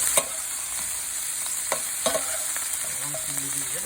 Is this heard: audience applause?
no